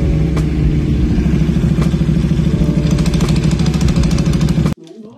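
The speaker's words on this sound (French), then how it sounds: "au ralenti, ton embrayage il fait un bruit de Ducati en panne en plus" A KTM RC8 with a worn clutch idles loud and close, its steady engine note carrying a fast, regular clattering rattle until it abruptly cuts out near the end, leaving a brief low rumble.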